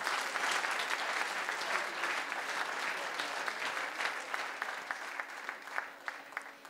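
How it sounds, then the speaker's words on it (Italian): An audience at a fashion show claps steadily for several seconds, a dense, moderately distant wash of applause with scattered louder individual claps. "Facciamo un grande applauso."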